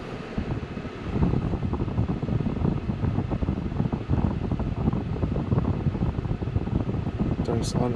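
A Hyundai Tucson's air conditioning compressor cycles on under a steady whooshing, fan-like hum, heard up close and continuous with a brief rise in level as it engages; no speech is heard.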